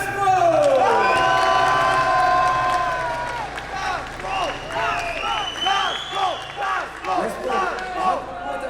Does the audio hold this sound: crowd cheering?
yes